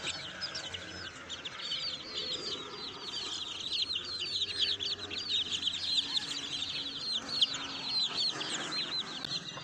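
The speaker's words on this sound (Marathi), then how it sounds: "कोंबडा आहे कोंबडा" Village rooster and chickens cluck and chatter continuously at a moderate distance, a busy flock of overlapping calls with faint background noise.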